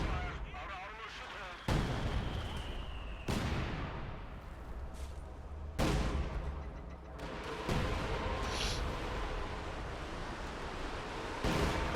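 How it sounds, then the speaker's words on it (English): Mortar shells striking in a video game, heard as a run of loud booming impacts every second or two over constant rumbling battle noise, with muffled talk mixed in. "Whenever he sees that mortar hit anything."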